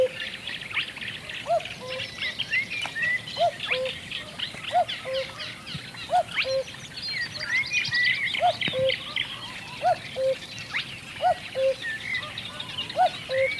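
Recording of a male common cuckoo singing, repeated two-note calls at a steady pace, fairly faint and mixed with other birds chirping in the background.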